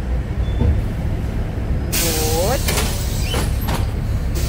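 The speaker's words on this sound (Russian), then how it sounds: "едем в автобусе" Interior of a moving city bus, steady engine rumble and road noise with a hissing air brake or door release partway through, under a voice talking.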